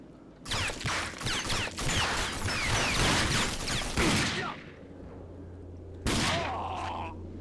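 Rapid bursts of gunfire in the shooter video game Rage, loud and close with a dense crackling volley for several seconds, a short lull, then another sharp burst.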